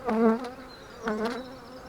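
Honey bees buzz close by at a hive in two loud, droning swells, their whine rising and fading over a couple of seconds.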